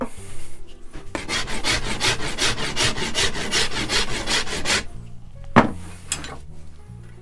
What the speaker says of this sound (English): Now I'll continue to use the rasp here, make the Buchanan dips a bit more pronounced